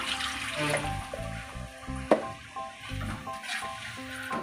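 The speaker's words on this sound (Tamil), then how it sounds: "நான் மிக்சியில் பேஸ்ட் அரைச்ச மிக்சியில் கழுவி தண்ணி ஊற்றுறேன்." Rinse water from a mixer jar pours and splashes into a pan of crab curry in uneven gurgles, close by, with clinks against metal and no talking.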